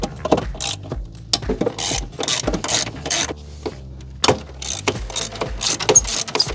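A ratchet loosening the master cylinder bolts on a Jeep Grand Cherokee during brake booster replacement, with a series of close, loud metallic clicks and clanks in uneven bursts.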